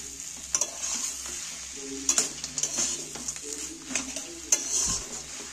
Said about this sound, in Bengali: ধনেপাতাটা ভালো করে মিক্সড করে নিচ্ছি